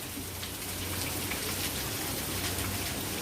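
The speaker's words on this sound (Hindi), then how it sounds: "बारिश कम हो गई" Steady rain falls and patters on surfaces, a dense, even hiss filling the whole stretch at moderate level, with no voices heard.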